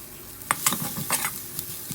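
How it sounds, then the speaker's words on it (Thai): Chili and garlic sizzle and crackle in a hot pan, with quick scraping stir strokes, close and fairly quiet, no talking. "ใส่พริกกระเทียมลงไปครับ"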